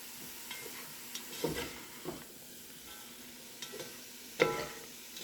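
Sausage browning in a soup pot, sizzling softly at low level while a utensil scrapes and stirs across the pan bottom in a few scattered strokes, the loudest scrape near the end.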